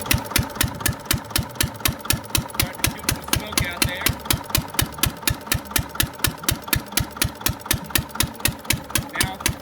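An antique single-cylinder Witte diesel engine chugs in a slow, evenly spaced beat, each loud exhaust pulse distinct and close, with the note shifting slightly as the governor adds fuel under load.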